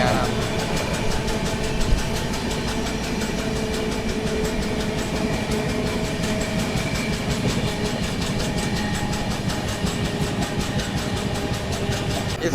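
Purushottam Express rolling slowly near Naini in India, a steady continuous rumble with faint rhythmic clatter of the wagons, heard from inside the sleeper-class coach with a voice talking over it.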